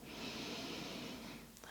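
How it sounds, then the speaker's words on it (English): A long, soft, steady exhale of yogic breathing, breath flowing out evenly for over a second, close and quiet, with no speech. "take a deep breath in. And exhale,"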